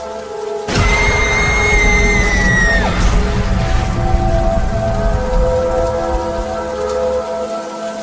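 Heavy rain pours down steadily and loudly on a cartoon forest at night. A brief high shriek cuts in near the start, and a low rumble continues under the downpour.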